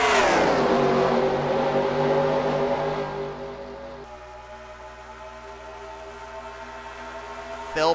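Race cars in a NASCAR-style racing video game take the green flag at Las Vegas, engines roaring loud and rising together, then the pack's drone fades into a thinner whine before a fresh surge at the very end.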